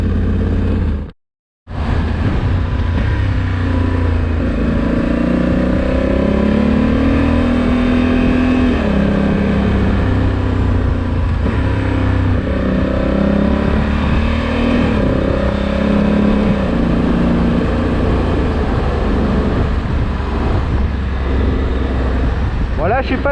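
Honda Africa Twin 1100 DCT motorcycle ridden in sport mode, its engine droning steadily and loud throughout with shifting pitch and wind roar, broken by one brief dropout near the start.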